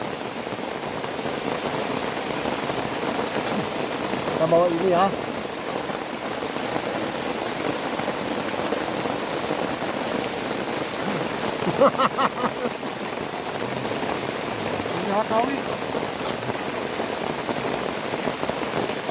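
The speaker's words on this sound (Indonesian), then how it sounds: "Hujannya sangat lebat Mas Bro." Heavy tropical rain pours down in a steady, dense hiss, with a person speaking briefly under the downpour.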